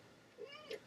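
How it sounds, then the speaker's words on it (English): A pet cat meows faintly in a quiet room, two short soft calls close together near the end. "And that's my cat."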